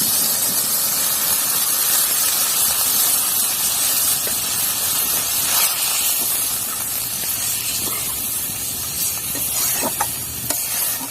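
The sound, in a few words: water poured into frying masala for pabda fish curry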